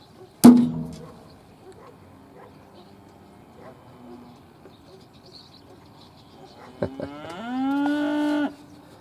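A cow lets out a long, loud moo near the end, after a sharp bang at the start and a quiet stretch of faint outdoor background.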